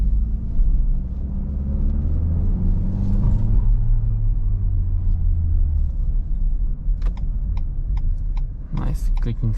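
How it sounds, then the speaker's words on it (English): A 2021 facelift Renault Megane TCe 140 clicks its turn-signal indicators on a night drive through Zagreb, a crisp, steady ticking over the low rumble of engine and road in the cabin. "Nice clicking sound of the indicators."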